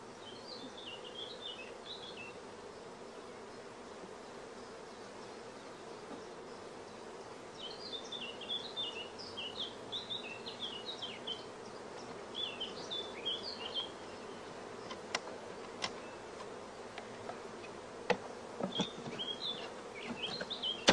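Honeybees hum softly on frames in a queen-right brood chamber, a faint steady buzz with scattered chirps and a few sharp clicks near the end.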